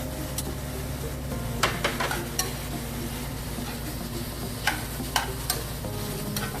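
Cooked garlic shrimp sautéing in a hot pan, a steady soft sizzle broken by a few sharp clicks and scrapes of stirring, with no voices.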